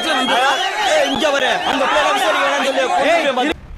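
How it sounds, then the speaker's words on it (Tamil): A crowd of women party officials clapping, shouting and cheering together, loud and close throughout, then cut off abruptly near the end. "சக பெண் நிர்வாகிகள் எல்லாம் கைத்தட்டி உற்சாகப்படுத்தியதோடு கூச்சலிட்டு ஆரவாரம் செய்தனர்"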